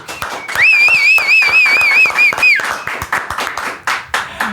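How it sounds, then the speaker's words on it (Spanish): Studio audience applause for a guest at the close of a podcast, steady rapid clapping with a sustained wavering whistle over it, then the clapping breaks into scattered individual claps and fades. "Un aplauso para Carlos Meisel."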